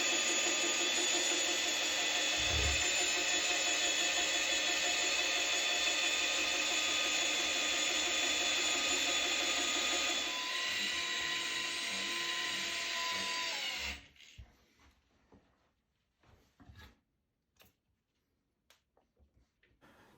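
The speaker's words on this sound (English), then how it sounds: "So you can see it mixed up that mud very easily, pretty quickly." A Milwaukee M18 FUEL mud mixer churns drywall mud, a loud high-pitched steady motor whine with gritty mixing noise running for about fourteen seconds, then it cuts off and faint scattered knocks and scrapes follow.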